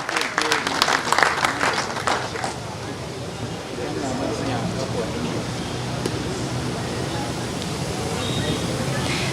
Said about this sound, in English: Yes, thank you so much. A big round of applause, ladies and gentlemen.